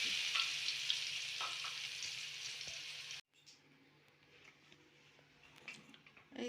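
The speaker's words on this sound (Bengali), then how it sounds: "এই যে আলুগুলো ভেজে নেওয়া হচ্ছে" Potatoes frying in a pan for a Bengali bhetki fish curry with cauliflower. A soft, steady sizzle fills the first half, then drops to a much quieter crackle with faint scattered pops.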